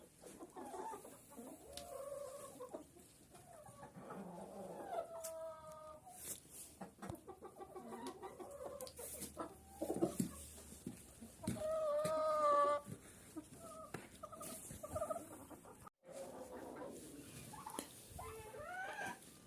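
Hens cluck and cackle on and off close by in frosty winter weather, with a few louder drawn-out calls among the busy, uneven clucking.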